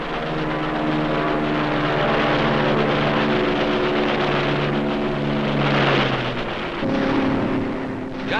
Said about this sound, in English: United States Navy fighters and bombers in clashing low-level attacks on Japanese shipping